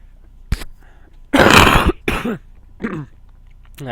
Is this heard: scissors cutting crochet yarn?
no